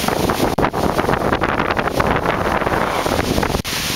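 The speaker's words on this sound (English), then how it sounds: "Yeah, it's a good windstorm." Strong, steady wind roars through a windstorm in cool weather, buffeting the microphone with constant broadband rushing and brief lulls, loud and close throughout.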